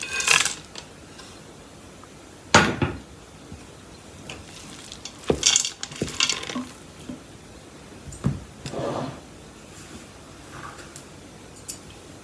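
Toasted peanuts tumbling into a pan of cooked, separate rice grains and stirred through, giving a few scattered rustling scrapes and soft clatters close by, with no talking.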